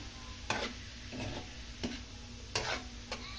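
Hotdog pieces stirred through a menudo sauté in a pan, with sharp scraping strokes spaced about a second apart over a steady soft sizzle, close and moderately quiet, no talking.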